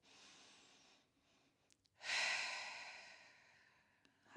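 A slow, audible breath taken while holding a stretch on a Pilates reformer: a soft inhale, then a longer airy exhale that fades gradually, close and quiet, with no talking.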